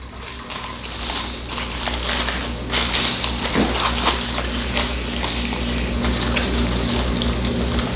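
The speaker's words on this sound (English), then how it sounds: "let's get this bad boy unwrapped and let's give it a try" Paper wrapping is peeled and crumpled off a New York hot dog with red onion sauce, giving a steady close crinkling and rustling that runs the whole time with no talk.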